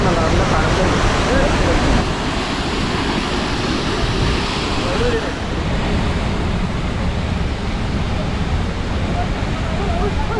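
Athirappilly waterfall roars as a dense, continuous wash of falling water close by, loud and unbroken, with faint voices underneath.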